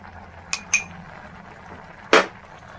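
Coconut dal curry with grated fresh coconut, tomato, turmeric, chilli powder and salt being mixed in a pan: two sharp metal clinks of a spoon against the pan early on, then one louder scrape-clink later, over a quiet background.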